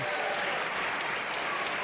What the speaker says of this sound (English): Service ace and a big roar from this crowd.